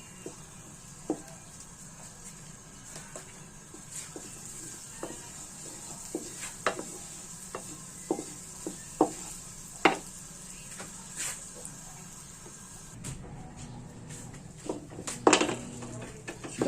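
Butter sizzles softly in a pan with pork loin for buttered vegetables while a utensil stirs it, giving scattered scraping clicks and taps over a low, steady frying hiss.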